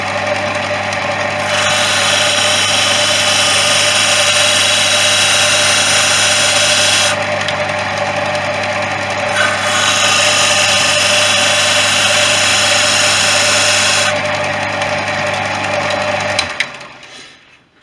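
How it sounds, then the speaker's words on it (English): A power sander drones loudly and continuously, its pitch shifting as it works against small wooden blocks, then cuts off abruptly at the end. "So the monotonous task of just sanding these things around and creating them."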